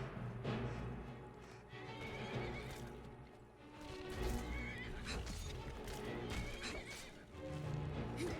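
Unicorn horse in the Skyrim video game whinnying and neighing loudly, with clip-clop hooves and game ambience throughout, no talk.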